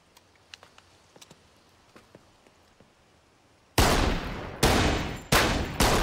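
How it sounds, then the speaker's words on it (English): Three loud, close gunshots crack in quick succession at a shooting range, each with a short decaying tail, after a quiet stretch of faint ticks and clicks. "Okay, you shoot too fast."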